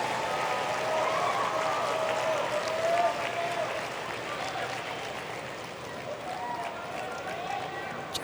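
A US Open tennis crowd roars and applauds for Shapovalov in a steady, dense wash of cheering that holds throughout, with commentary voices under it.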